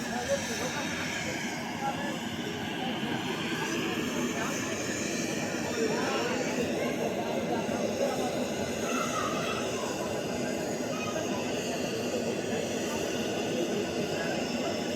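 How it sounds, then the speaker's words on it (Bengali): Bangladesh Airlines airplane parked at Barisal airport with its two propellers stopped but its engine still running, a steady, even roar with tonal whine layered on top and indistinct talk mixed in. "বিমানটির 2টি পাখা বন্ধ থাকলেও এর ইঞ্জিন কিন্তু চালু। দেখুন, ইঞ্জিন থেকে প্রচুর পরিমাণে শব্দ আসছে।"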